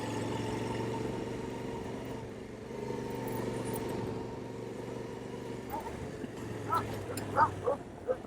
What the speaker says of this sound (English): hey, another dog.